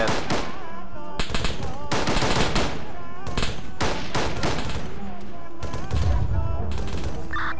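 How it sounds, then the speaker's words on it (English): Suppressing machine-gun fire in ARMA 3, loud rapid bursts repeating in several volleys with short pauses between them, close and harsh, with muffled voices in the background. "We're suppressing, leave the vehicle, come to us. Suppressing fire."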